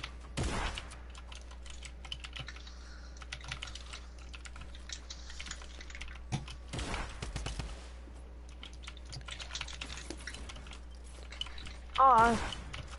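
Computer keyboard keys clatter in steady bursts of typing throughout, with a few louder strikes and faint voices talking in the background during a gaming session.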